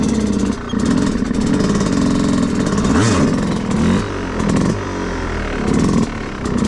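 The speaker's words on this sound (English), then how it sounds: "We want a nice easy compression of the suspension and a nice blip of the throttle and blip of the clutch to get the front end up like this" Dirt bike engine revving hard with sharp throttle blips and clutch pops to lift the front wheel, a loud, close, continuous rasp rising and falling in pitch.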